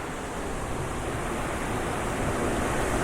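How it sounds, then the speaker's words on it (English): A raging, dangerous river rushes in a steady, loud broadband roar that stays unbroken for the whole stretch, with no voices. "The river is raging and it's very dangerous right now."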